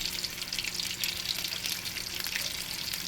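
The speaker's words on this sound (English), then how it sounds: "Look, that oil splashing." Saltfish fritters frying in hot oil give a steady, dense crackle and sizzle with constant popping and spattering, close and fairly loud, unbroken for the whole stretch.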